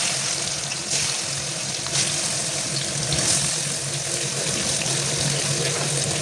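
Olives go into a hot pan with dry chilli and five-spice for olive pickle, producing a steady, close hiss and sizzle that stays even throughout with no talk.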